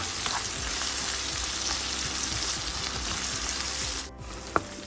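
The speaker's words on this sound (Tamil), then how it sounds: "முள்ளங்கி ஓரளவுக்கு வதங்கிடுது." Radish pieces sautéing in a pan for sambar, a continuous loud close sizzle with faint scraping stirs, briefly dipping near the end before a single sharp tap.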